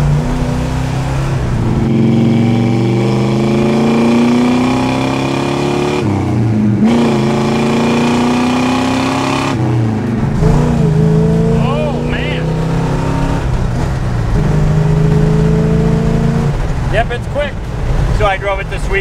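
A 1969 Plymouth Road Runner's big engine rumbles and revs steadily throughout, pitch rising and falling with acceleration, loud and close, with brief dips between gear changes.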